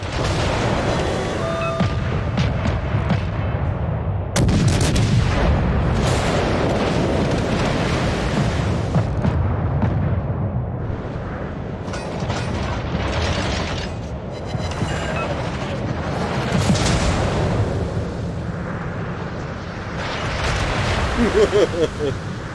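Naval gunfire and shell explosions in the World of Warships video game, dense repeated booms over a churning ocean bed with a voice talking over much of it.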